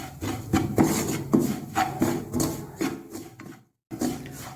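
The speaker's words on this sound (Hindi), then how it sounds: "बेसन हमने इसको चलाते रहना है, रुकना नहीं है। अगर हम रुके तो ये बेसन जल सकता है।" Gram flour being stirred and roasted in a pan for besan laddu, a steady scraping and rubbing of spoon against the pan bottom in repeated strokes, close and fairly loud, with a brief silent gap near the end.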